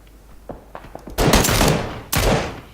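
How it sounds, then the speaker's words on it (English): Gunfire in the video game PUBG Battlegrounds, a few small distant pops followed by two loud, long blasts that ring out and fade, with no talking over them. "those two are firing at us."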